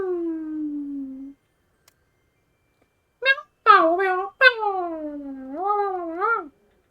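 A cartoonish cat meows in the Dofus 3 video game: one drawn-out mew, then several short rising cries and a final wavering meow, clear and close with silent gaps between.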